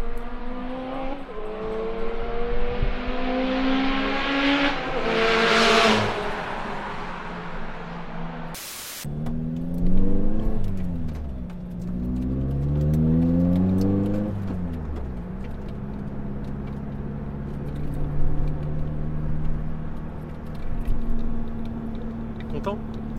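A car drives on a racing circuit in Japan, its engine rising and falling through the gears, with tyre and wind roar underneath; someone speaks at times over the close, steady drive.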